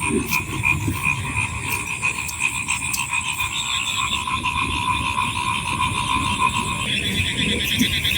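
Many frogs croak together in a steady chorus during rain, with tonal calls repeating throughout.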